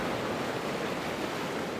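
Sea waves washing steadily onto a rough-ground fishing shore on an incoming tide, a constant broadband surf roar with some wind, moderately loud and unbroken, no voices.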